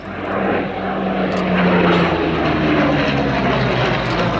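A Hawker Hurricane propeller fighter roars past at an air show, a loud, sustained piston-engine drone swelling slightly in the middle and holding steady throughout.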